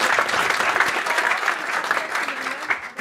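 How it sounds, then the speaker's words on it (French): An indoor audience at a business gathering claps loudly and continuously for a few seconds, a dense steady applause with no voices over it. "On a les bravo, on l'applaudit bien fort,"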